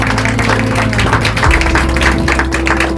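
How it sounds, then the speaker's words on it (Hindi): A church congregation claps loudly and steadily through a worship service, the dense applause mixed with sustained keyboard tones underneath. "जोरदार ताली यीशु के लिए हम बजाएं।"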